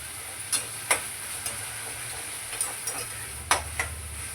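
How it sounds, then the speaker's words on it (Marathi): Tomatoes sautéing in a pan with a pinch of salt, a soft steady sizzle under several sharp clicks and taps of a spoon stirring against the pan. "टॅमॅटो टाकून परतून घेऊया अगोदर त्याला."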